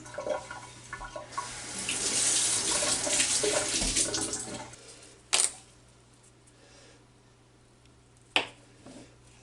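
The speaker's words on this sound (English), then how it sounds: "Rinse off my eggs a little bit." Tap water runs over boiled eggs in a sink, a close, splashing stream for about five seconds that then shuts off, followed by two sharp clunks.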